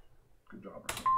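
A telephone in the Ludum Dare 42 video game gives a short electronic tone near the end, after a voice speaks briefly.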